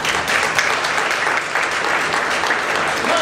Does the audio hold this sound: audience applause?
yes